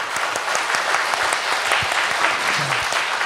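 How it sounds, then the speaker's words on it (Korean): Applause from the audience at a poetry festival opening ceremony in Gunsan, Korea, a full, sustained round of clapping with some scattered crowd noise beneath it. "큰 성원의 박수 한번 부탁드리겠습니다."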